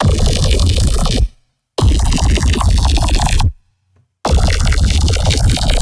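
Loud, gritty low neuro bass synth notes sustained for over a second each, separated by abrupt silences, three bursts in all.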